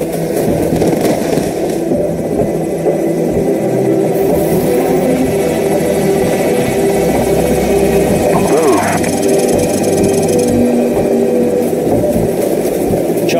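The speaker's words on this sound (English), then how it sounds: "Enemy helicopters." Enemy helicopters in Call of Duty 4: Modern Warfare, a steady droning rotor and engine hum running continuously beneath a busy game soundscape of gunfire-like bursts and background effects, with no speech present.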